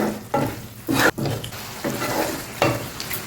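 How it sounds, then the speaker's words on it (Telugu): Bitter gourd curry with jaggery is stirred in a pan, heard as a few loud, rhythmic scraping sweeps of a spoon over a soft sizzle, close and without voices. "ఒక్కసారి అంతా కలిపేసేసి మనం మూత పెట్టేద్దాం"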